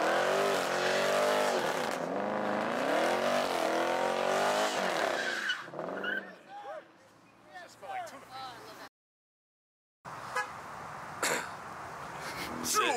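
A Mopar car does a burnout at a Houston Coffee and Cars meet, a loud engine roar with rising and falling revs and tire squeal for several seconds, then dropping away to scattered crowd voices and brief bursts.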